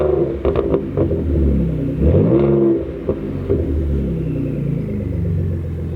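A second-generation Ford Raptor pickup's engine rumbles deeply up close, its pitch rising and falling as it revs, then settles into a throaty, uneven idle.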